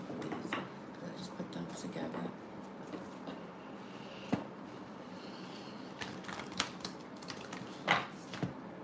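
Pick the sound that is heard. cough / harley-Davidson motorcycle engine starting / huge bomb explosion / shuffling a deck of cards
shuffling a deck of cards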